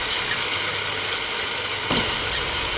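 Meat browning in a pan for aloo gosht gives a steady, dense, close sizzle with fine crackling throughout and a brief stirring scrape near the end, with no voices.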